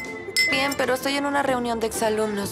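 Glasses clink together in a toast at a class reunion gathering, a few bright chimes ringing near and clear beneath a person talking on the phone.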